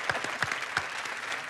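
A studio audience on a television quiz show claps, a short, moderate burst of applause with a few distinct louder claps before it thins out.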